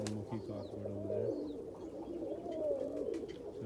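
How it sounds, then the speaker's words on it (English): An almond Mookie pigeon cockbird coos softly in low, rolling bursts, with faint chirps and quiet background noise around it. "There's a classic almond Mookie cockbird over there."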